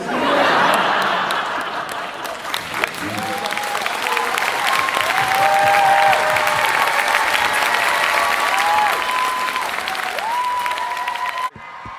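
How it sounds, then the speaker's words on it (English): A large Comic-Con panel audience claps continuously in sustained, dense applause, with a few scattered whoops and chuckles, cutting off abruptly near the end. "big round of applause"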